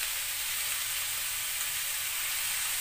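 Egg frying in a hot pan while cooking ginisang ampalaya with tomato, giving a steady, close, loud sizzle with constant hiss and no break.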